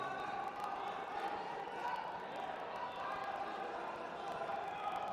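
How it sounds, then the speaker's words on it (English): Arena crowd at a jiu-jitsu grand slam event in Abu Dhabi, a steady wash of cheering and murmuring held at a moderate level from start to finish. "The crowd are loving that display of jiu-jitsu here in Abu Dhabi."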